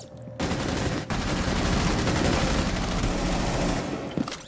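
Rapid gunfire in a competitive shooter video game, a dense, loud volley of shots that starts abruptly and keeps going with only a brief gap, ending in a few scattered pops.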